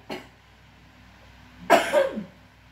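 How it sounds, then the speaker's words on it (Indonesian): Two coughs from an adult at home: a brief, light one, then after a pause a stronger, rougher cough with a throaty tail, close to the microphone. "Mohon maaf saya batuk."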